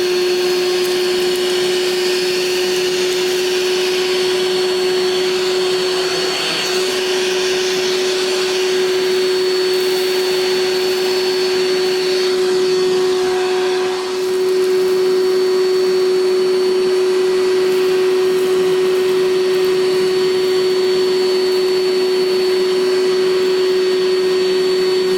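An Evolution cordless battery vacuum cleaner runs steadily and loudly on a concrete shop floor, holding a high, even motor whine for the whole stretch with only a brief dip partway through.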